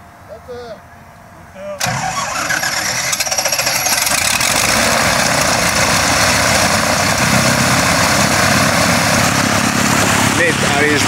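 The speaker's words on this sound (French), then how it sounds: "J'essaie d'avoir le démarrage de près là du moteur" The engine of a homebuilt aircraft starts close by, coughing to life after a brief quiet moment and settling into a loud, rapid, rough idle that hammers on steadily.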